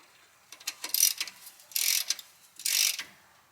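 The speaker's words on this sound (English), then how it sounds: "Let me just tighten this up before I forget." Ratchet tightening a fastener on a Dana 45 rear axle: three quick bursts of sharp clicking pawl ratchet strokes, close and clear in a quiet shop setting with no talk.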